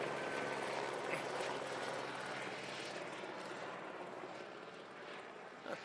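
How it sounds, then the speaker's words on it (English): A police helicopter drones overhead as a steady, broad rotor and engine roar that stays fairly constant at a moderate distance, with no clear talk over it. "it's a police helicopter."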